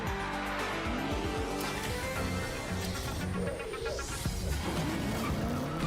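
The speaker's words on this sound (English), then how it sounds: "No, that's the Knight Rider car." The Knight Rider car skids in a game trailer, tires squealing loudly over a roaring engine, with sharp screeches and a rising whine amid dense effects.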